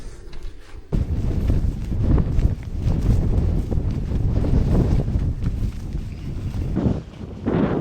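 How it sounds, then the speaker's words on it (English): Strong wind gusts sweep across an exposed hilltop on Kinder Scout, a loud, steady buffeting roar that batters the microphone for the whole stretch, swelling and easing slightly without pause. "the wind's picked up a little bit just as I came over that brow"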